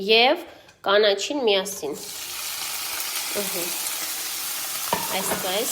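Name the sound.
onion and greens frying in a pan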